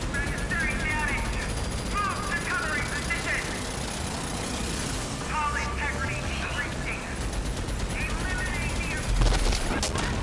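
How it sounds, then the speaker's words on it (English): Heavy cannon fire in RAGE 2, a dense run of bursts and booms under loud game combat noise and engine rumble, with a person talking over it throughout. "when they pull out the big cannons"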